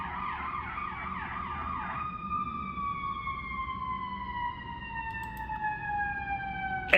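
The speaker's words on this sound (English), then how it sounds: "Excuse the sound here. Got an emergency going on outside." An emergency vehicle siren wails outside, first a rapid warbling yelp and then a long slow falling wail, moderately distant and steady, with faint traffic noise beneath and no talking.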